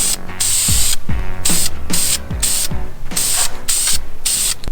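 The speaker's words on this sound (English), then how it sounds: "I gotta paint from farther away." Satin black engine enamel is sprayed from an aerosol can onto a car headlight in short hissing bursts separated by brief pauses, loud and close, with a rattling rhythm between blasts.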